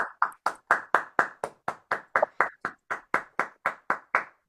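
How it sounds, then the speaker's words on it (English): One person claps alone, about twenty evenly spaced sharp claps at a steady brisk pace, close and clear with silence between each, for an online event audience. "we could give a nice round of applause to Caroline Charles and Dr."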